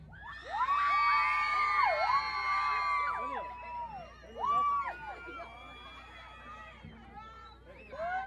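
Crowd at a horse contest where the loudest shout wins, bursting into loud shouts, whoops and cheers in several waves that rise and fade, with high voices prominent and no clear speech.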